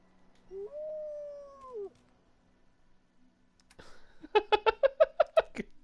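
A dog in the video game Fallout 4 lets out a drawn-out whining howl, then after a pause gives a quick series of about eight sharp, rhythmic whimpering yelps, close and clear with no talk over it.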